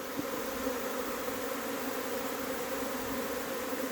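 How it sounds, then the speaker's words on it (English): A swarm of honey bees drones in a steady, dense buzz, a continuous hum that holds level without a break, close and moderately loud with no voices. "A very, very nice swarm."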